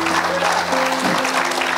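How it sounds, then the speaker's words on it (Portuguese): Church congregation applauding at an evening service, a steady dense wash of clapping with organ or keyboard tones sustained underneath and a voice faintly mixed in. "Aplauda ao Senhor nesta noite."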